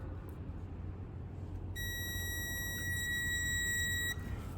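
A cheap $15 multimeter in diode-check mode emits one steady, high, clear beep lasting about two and a half seconds over a low background hum.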